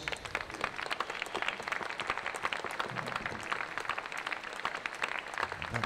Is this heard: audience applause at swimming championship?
yes